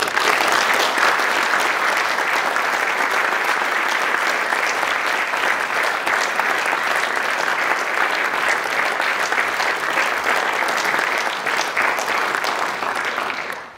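Sustained applause from a large crowd, steady and loud for several seconds before fading out at the end.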